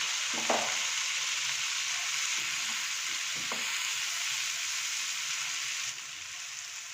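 Broccoli frying in a pan for butter garlic broccoli, a loud, even hiss of sizzling oil with a couple of brief knocks, dropping slightly quieter near the end.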